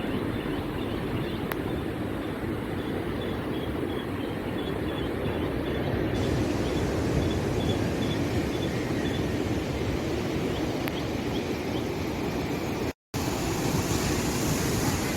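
Ocean waves on the rocks in front of a beach hotel at Kovalam, a steady broadband wash of surf with no distinct breaks, continuous and fairly far off, with no talk.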